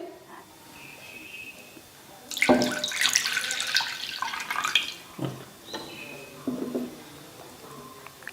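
Thick coconut milk poured into a bowl, a loud wet splashing pour lasting about two seconds, followed by softer trickles and a few light knocks, close up with no talking.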